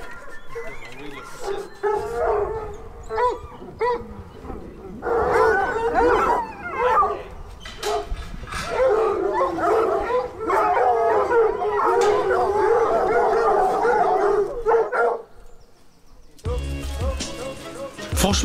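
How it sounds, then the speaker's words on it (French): A pack of hunting hounds howling and baying together at the end of a hunt with hounds, loud and sustained, with yips and barks mixed in and a few brief gaps. "la chasse est terminée, là, ils font l'appel des chiens"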